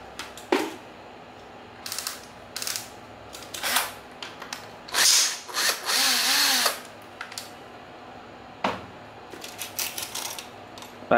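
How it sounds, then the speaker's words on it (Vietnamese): A cordless electric screwdriver drives in short whirring bursts while removing a screw from a Japanese hot air gun, with clicks and handling noise between the bursts. "em lấy cái máy bắn vít này mở thử không?"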